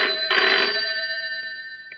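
A telephone rings after a number has been dialled, giving one steady electronic ring tone that is clear and close and then fades out near the end.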